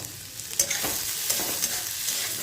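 Onion, ginger and garlic fry in a pan, a steady close sizzling hiss with a few soft stirring scrapes, and no voices.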